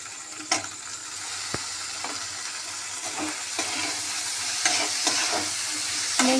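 Washed raw moong dal frying in a pan hisses with a steady sizzle, broken by repeated scrapes and knocks of a spatula stirring it at close range.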